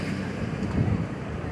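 Strong floodwater current rushing during heavy monsoon rain on a flooded, blocked road under red alert, a steady, loud broadband roar with no clear voices.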